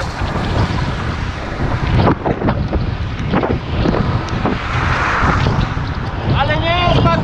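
Rough gusts of wind buffet the microphone of a cyclist riding in the rain near Dushanbe, a loud continuous rumble with a brief voice near the end.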